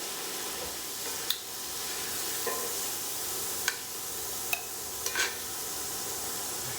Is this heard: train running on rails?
no